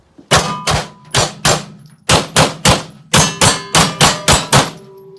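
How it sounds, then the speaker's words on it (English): Gunshots fired during shooting drills ring out in about fifteen sharp, loud reports, spaced in quick bursts with short pauses between groups. "She's now doing shooting drills."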